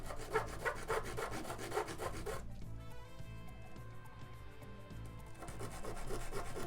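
Sandpaper worked by hand over a plastic Wii shell, giving repeated rapid rasping strokes, a brief pause, then more rubbing, close up with no talk.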